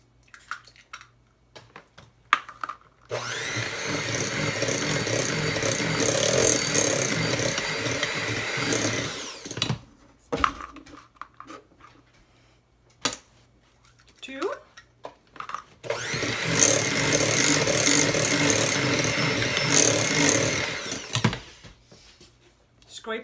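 A stand mixer whirs at low speed, beating cheesecake batter with eggs added one at a time, in two sustained stretches with a quieter gap between them, and a voice speaks in the pauses.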